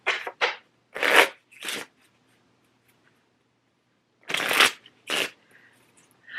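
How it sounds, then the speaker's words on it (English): A deck of playing cards is shuffled in several quick riffling bursts, close and crisp, separated by short pauses and a longer quiet gap, with no voices. "And we'll put the 7 of spades back in and shuffle."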